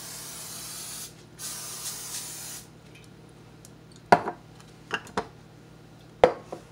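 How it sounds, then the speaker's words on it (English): A few seconds of steady olive oil aerosol cooking spray hissing, followed by a handful of sharp clicks and knocks from handling the pan. "I have olive oil spray, so I'm just going to spray mine."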